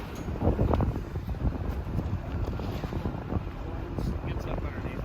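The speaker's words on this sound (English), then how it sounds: "It's pretty windy down here" Strong wind blowing around a pole barn roof covered in felt paper, a constant rough gusty roar buffeting the microphone, loud and close, with voices talking over it.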